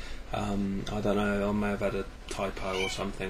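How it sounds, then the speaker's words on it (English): A female house cat meows repeatedly close by, her cries mixed with and partly masked by a person speaking steadily throughout. "That's my cat making a nuisance of herself."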